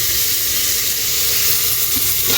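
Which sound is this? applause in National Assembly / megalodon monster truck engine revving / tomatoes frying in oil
tomatoes frying in oil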